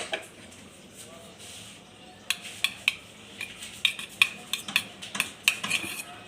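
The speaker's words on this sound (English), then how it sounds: "I'll just put it into a bowl and press it" Cooked rice pressed into a bowl with a utensil, giving a run of soft, fairly regular clicking taps against the bowl that start after a quiet stretch and carry on steadily, close and unaccompanied by talk.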